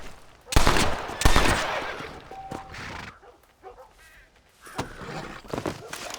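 Gunfire in the Western video game Red Dead Redemption: a few sharp rifle shots ring out near the start, followed by scattered quieter bangs and game ambience.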